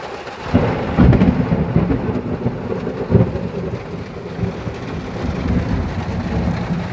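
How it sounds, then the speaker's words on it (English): A nearby thunderstorm sends heavy thunder booming and rumbling over steady rain, with loud cracks early and around midway, heard from a camped van. "This storm must be like pretty close."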